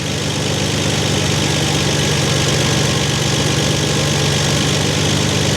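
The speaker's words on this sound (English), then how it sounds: "I can hear the air bleed working in the carburetor now." A vintage off-road wrecker engine, freshly fitted with electronic fuel injection, idles with a steady, even rumble, loud and close throughout with no talk over it.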